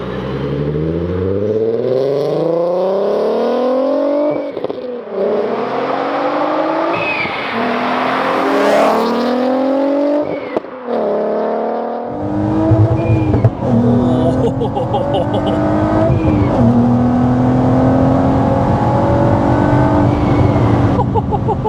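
A 360bhp supercharged Mk4 VW Golf R32 engine revving hard through rising gears, pitch climbing and dropping repeatedly, then a deeper sustained roar with whining overtones.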